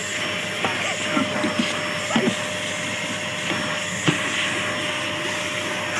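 A vacuum cleaner hums continuously inside the cab of a Hino 700 series 12-wheel truck, a steady drone with faint bumps and clatters as the nozzle moves around the interior.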